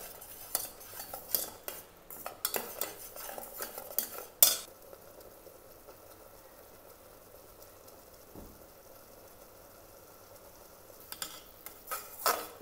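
A spoon scrapes and clinks against a pan as homemade masala is stirred and dry-roasted, with irregular close metallic scraping bursts, a quieter stretch, and stirring picking up again near the end.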